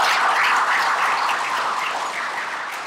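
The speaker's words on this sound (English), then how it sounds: "How about a round of applause for CPS Energy?" Audience at a chamber of commerce energy event applauding a sponsor, a dense steady burst of clapping from a large room that tapers slightly toward the end, with no talking.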